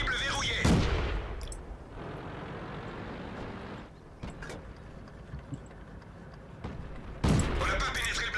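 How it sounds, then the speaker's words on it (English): Tank cannons fire in the video game World of Tanks: two sharp, loud booms stand about six seconds apart over a low, steady engine rumble, with a few fainter thuds between them. "You keep shooting at me with non-penetrating shots."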